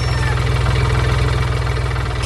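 A cartoon tractor's engine idles steadily on a farm, a continuous low, even chugging that holds close and loud throughout, with no voices over it.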